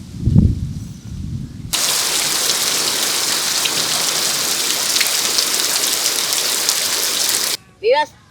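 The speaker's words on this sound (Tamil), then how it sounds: "மின்னது இடி அடிக்குது பயங்கர மழை வர" Heavy rain during a thunderstorm breaks in suddenly as a dense, loud, steady downpour hissing without pause, preceded by a brief low thump and followed by a short voice at the very end.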